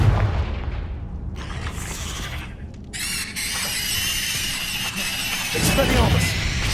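Explosion from the Confringo spell in Hogwarts Legacy, deep booming blasts with squealing, crackling magical bursts in the middle, loud and dense amid ongoing combat effects.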